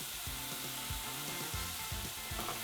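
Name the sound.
onion, garlic, red pepper and chorizo frying in olive oil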